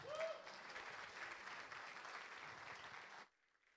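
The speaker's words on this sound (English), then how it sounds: "I want to give a round of applause for Malta Blockchain Summit," Audience applause at a blockchain summit in Malta, a dense, steady wash of clapping from a crowd that holds for about three seconds and then cuts off abruptly into near silence.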